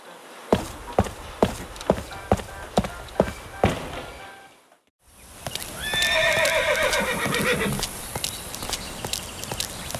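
A horse in the video game Saddle Up clip-clops in a steady rhythmic walk, then after a brief silence lets out a loud, close neigh over continued hoofbeats.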